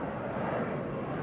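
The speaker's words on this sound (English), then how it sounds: "Hey, Retro Transavia." A retro-livery Transavia airliner at Amsterdam Schiphol gives off a steady, broad jet-engine roar that stays loud and even throughout, with no talk over it.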